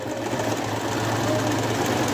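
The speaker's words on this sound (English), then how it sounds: "I'm going to go ahead and sew all the way around." A sewing machine stitching around a small plush toy, a continuous close, loud mechanical whirr with a steady rapid knocking throughout and no talk.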